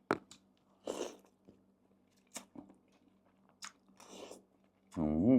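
Close, crunchy bites and moist chewing of a meatball, several short bursts separated by brief pauses, with a voice murmuring briefly at the end.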